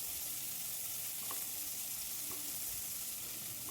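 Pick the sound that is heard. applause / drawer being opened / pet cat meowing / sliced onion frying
sliced onion frying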